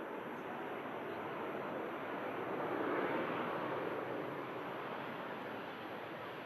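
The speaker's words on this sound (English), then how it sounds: "as that TUI touches down" A TUI airliner touches down at Manchester Airport, a steady broad roar of jet noise heard from a distance that swells gently midway before settling back to a constant rush.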